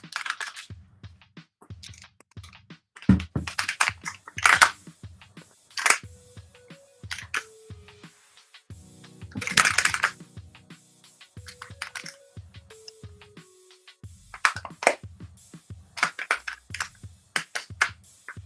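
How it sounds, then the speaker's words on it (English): A Shashibo shape-shifting magnetic puzzle toy, two of them linked together, folds and clicks in close, crisp bursts of clacks and snaps, irregular and quick, with short pauses between clusters and no talking. "This is two right now woven together, folding and clicking and clacking as one."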